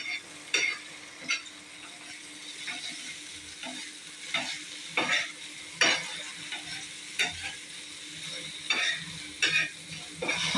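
Egg kalakki cooks in a pan with a soft sizzle, broken by repeated scraping stirs and flips of a spatula every second or so, close and moderately quiet.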